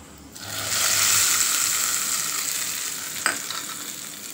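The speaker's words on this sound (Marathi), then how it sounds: "ही फोडणी आता छान चटणीवर टाकून घ्यायची" A hot tempering of cumin, mustard seeds, hing and curry leaves poured onto chutney bursts into a loud, close sizzle that slowly fades, with a brief clatter midway.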